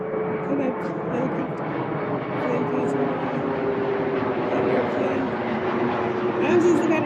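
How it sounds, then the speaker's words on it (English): A steady engine drone of an airplane overhead, a broad rumbling hum that holds throughout, with faint higher sounds in the background. "look at the airplane."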